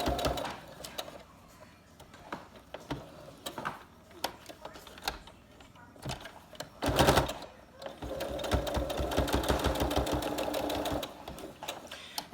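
A sewing machine runs in steady bursts while stitching up the pleats of a fabric face mask, close and fairly loud, with short pauses and ticking mechanical rhythm between runs.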